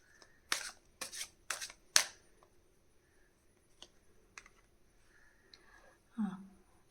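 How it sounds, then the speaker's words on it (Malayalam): Tarot cards shuffled and drawn by hand: four quick crisp riffling bursts in a row, then scattered soft taps and slides of cards being laid out, close and fairly quiet. "നമുക്കൊരു 2 കാർഡ് കൂടി നമുക്ക് എടുത്തു നോക്കാം"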